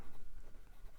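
A 3D printed fountain pen with a number 6 steel nib scratches across Clairefontaine 90 gsm paper, soft close strokes of nib friction with a few rhythmic pulses, no voices.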